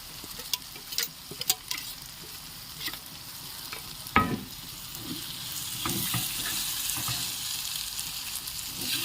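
Masala with brown onions fries in a hot pan while a spoon stirs and scrapes through it, giving a steady sizzle with scattered clinks and scrapes, close and fairly loud.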